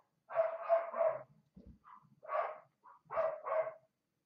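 Several dogs bark outdoors in separate bursts of two or three barks, moderately distant and clear, with brief quiet gaps between them.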